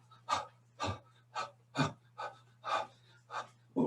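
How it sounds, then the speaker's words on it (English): Strong, forceful breaths during a qigong shaking practice, about eight sharp rhythmic exhalations at an even pace, close and clear over a low steady hum. "Nice, good, strong breath."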